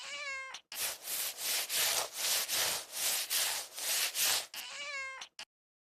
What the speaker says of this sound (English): I wake her up by scratching the door.